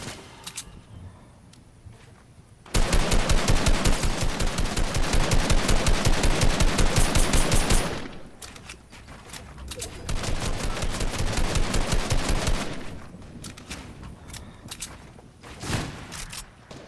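Video game machine-gun fire rattles out in a long, loud rapid burst of evenly spaced shots, pauses, then resumes in a second sustained volley before trailing off into scattered quieter sounds.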